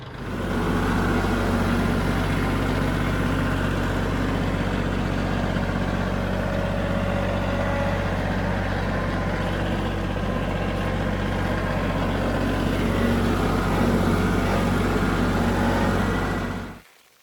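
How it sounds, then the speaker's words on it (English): A tractor engine runs at a steady low idle on a farm food plot, a constant heavy rumble held close and even for the whole stretch before cutting off at the end, with no talking. "So back to the tractor we go."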